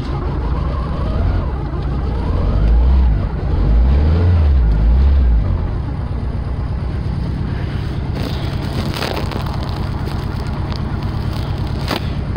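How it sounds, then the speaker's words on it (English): A cold Saturn SW2 running rich, its engine revving as gas is fed, heard close and steady with a low rumble that swells and eases, with sharper clatter toward the end. "Gotta give it a little gas because it's running rich."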